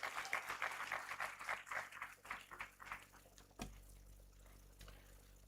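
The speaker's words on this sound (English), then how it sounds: "Let's give him a round of applause." A conference audience claps steadily for a few seconds, then the applause fades to scattered claps and a thump in a quiet room.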